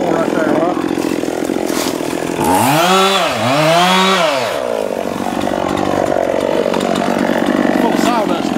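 A chainsaw cuts into a tree, its engine revving up and bogging down through a close, loud cut with rising and falling pitch, with idling before and after.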